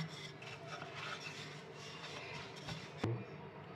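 Beetroot and paneer paratha dough being rolled out with a wooden rolling pin, a quiet close rubbing and scraping that continues steadily, ending in a brief knock, with no voices.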